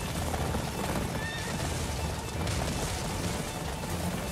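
Horses whinny and neigh in the video game Attack on Titan 2, heard over dense, continuous galloping and rumbling game noise that fills the whole stretch without pause.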